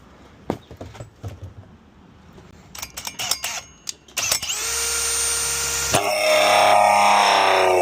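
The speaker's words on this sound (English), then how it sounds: "We're going to drill a hole through this" A power drill bores a hole through a line hide during a ductless mini split heat pump installation, running steadily for a few seconds after scattered taps and handling clicks, then shifting pitch as it bites through, close and loud.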